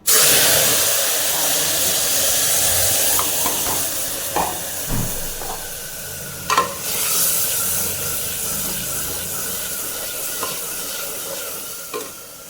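Vegetables and spices being stirred and mixed in a hot pan, a steady sizzle and hiss with occasional scraping clinks of the spoon, close by and continuous.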